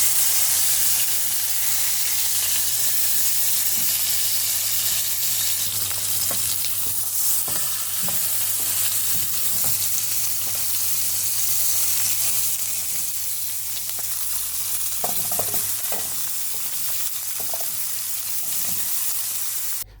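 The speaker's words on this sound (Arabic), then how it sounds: "اضيف العرق واخليه ياخد لون كده وتحميصه حلوه من كل مكان" Beef roast searing in a very hot pan, giving a continuous loud sizzle and hiss of frying with occasional scraping stirs and small pops over a steady low hum.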